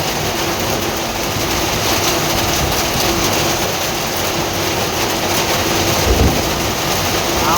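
Steady rain falling in cool weather, heard from under shelter, as a dense, constant hiss that stays loud and even throughout, with a brief low thump near the end.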